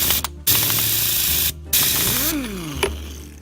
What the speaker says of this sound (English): since I have an impact gun, I'll be using it to take it out